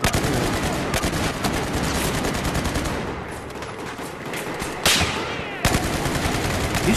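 Dense, sustained gunfire from the video game Battlefield 4 on the Operation Locker map in Rush mode, continuous automatic shots with sharp louder bursts near the end.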